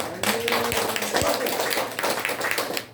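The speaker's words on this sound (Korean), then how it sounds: "하나님께 박수 한번 올립시다." A church congregation at a Sunday worship service claps, a patter of hands under a voice speaking, with a few sharp taps standing out.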